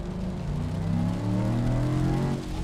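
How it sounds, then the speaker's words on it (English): The supercharged 518-horsepower V8 of a 2022 Land Rover Defender 90 gives a steady, deep, smooth grumble that rises slightly in pitch, heard close with no talking. "Now you hear that V8 grumble."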